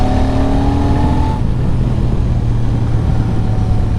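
A Royal Enfield Super Meteor 650 motorcycle engine pulls hard, its loud steady drone rising in pitch before settling into a sustained low rumble with heavy wind noise.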